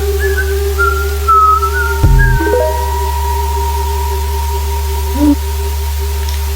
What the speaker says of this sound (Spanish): hasta que escucha un silbido